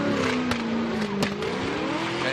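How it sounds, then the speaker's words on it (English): A drift car at a 2017 Formula Drift competition in New Jersey, its engine droning loudly past with a few sharp anti-lag exhaust pops cracking through the steady roar. "And Cameron Moore, you can hear him popping. The anti-lag from Cameron Moore."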